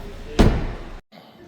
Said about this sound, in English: Let's close this door and we'll open up the driver door next.